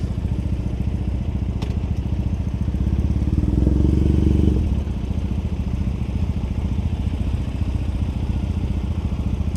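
A motorcycle rides through Tokyo traffic toward Shibuya behind a Kawasaki, its engine a close, steady low drone that swells briefly with throttle before settling back.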